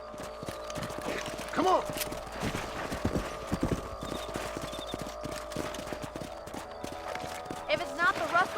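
Horse hooves clip-clop steadily while riding in the Western video game Red Dead Redemption, with a horse snorting and whinnying and a voice calling out briefly over the rhythmic hoofbeats.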